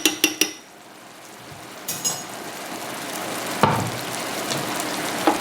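Calabrian chili being stirred into a tomato sauce in a pan, with a steady sizzling hiss throughout and a few clinks of a utensil against the pan at the start and scattered later.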